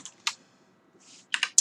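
Computer keyboard keys tapped in a few quick separate bursts, with short pauses between groups of clicks, fairly close and clear with no talking.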